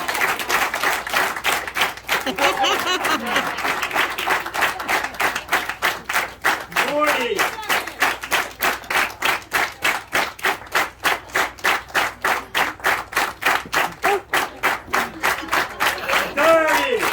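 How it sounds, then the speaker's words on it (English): A crowd claps along in a steady, fast rhythm for a long stretch, with voices calling out and cheering over the beat. "Keep that clap going, people."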